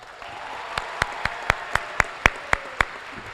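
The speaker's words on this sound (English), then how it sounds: "Please join me in another round of applause for the Henley High School Concert Band" Slow, evenly spaced claps, about ten distinct sharp hits, ring out over a quiet room as a high school graduation crowd applauds the concert band; the sparse rhythm suggests a few nearby clappers rather than a full audience.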